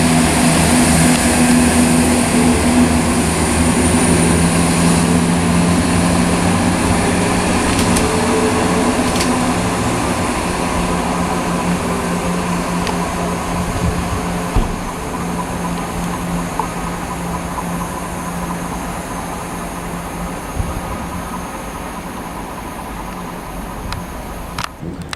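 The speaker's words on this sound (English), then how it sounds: "departure now is 1326 ScotRail service to Dunblane from Edinburgh" A ScotRail Class 170 diesel unit departing Linlithgow station on a service to Dunblane gives a steady engine drone and rumble that slowly fades as it pulls away, with faint squeaks and clunks.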